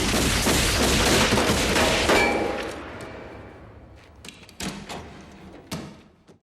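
Squib gunfire from an action scene in Die Hard with a Vengeance: a dense, loud burst of rapid shots for about two seconds, dying away into scattered thuds and sharp impacts with some lingering reverberation.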